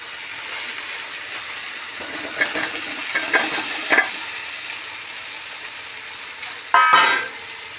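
Chopped tomatoes hit a pan of fried spices for tomato rice, giving a soft, steady sizzle with a few stirring clicks and a louder burst of frying near the end.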